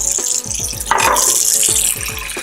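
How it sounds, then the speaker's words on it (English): Hot water runs steadily from a tap, a close, continuous splashing gush with a brief surge partway through. "So I'm going to run some hot water"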